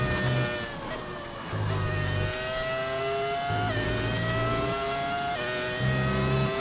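The V10 engine of an F1 car in the video game F1 25 whines at a high pitch and rises steadily through gear changes, with short lower growls at each shift, loud and continuous.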